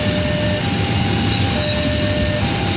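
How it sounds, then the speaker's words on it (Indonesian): The Argo Parahyangan train bound for Bandung passes Cikarang station, producing a loud, continuous rumble and roar of rolling stock with a faint steady whine over it throughout. "Ini Argo Perahyangan nih, tujuan Bandung, berangkat dari Gambir."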